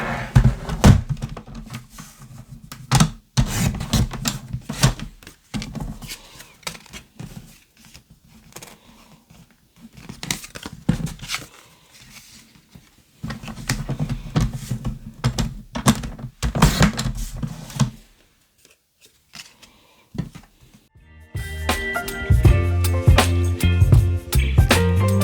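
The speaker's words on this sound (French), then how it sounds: "Je vais découper un petit morceau ici." Scissors or a blade cut a small piece for a notebook cover, with irregular close snips, thunks and paper rustles, a short quiet gap, then busier handling sounds at the end.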